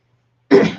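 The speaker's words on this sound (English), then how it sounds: "I'm clearing my throat too much." A single throat clearing rasps out near the mic after a moment of silence, short and close, from a woman hosting a relaxed live chat.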